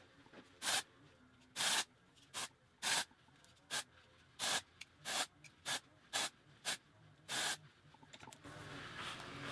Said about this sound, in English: I'm going to spray this hair with dry shampoo.